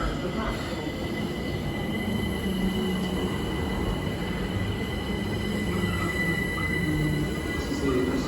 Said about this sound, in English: The train now approaching platform 2 is the 22:47